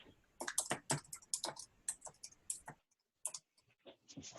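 Quick bursts of computer keyboard typing, clicking keys in uneven runs with a brief pause before the tapping resumes.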